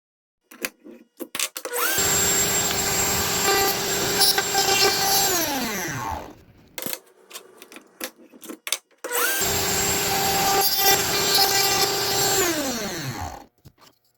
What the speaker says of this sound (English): now I'm going to continue to raise up the router bit